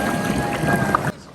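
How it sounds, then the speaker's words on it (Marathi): Sea waves wash in at Nagaon beach near Alibag while someone wades knee-deep in the water, making a steady, loud broadband rush mixed with wind buffeting that drops away abruptly near the end. "तुम्ही बघू शकता या लाटा"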